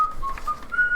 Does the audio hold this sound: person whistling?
yes